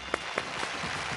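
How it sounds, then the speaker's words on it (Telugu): A studio audience on a Telugu family game show applauds briefly, producing a soft, steady patter of many hands that stays faint and distant, with no talk over it. "చప్పట్లు"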